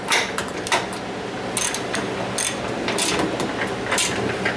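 A ratchet snugs bolts on a flash panel during installation, giving bursts of sharp metallic clicking in short uneven runs with brief pauses between, fairly close.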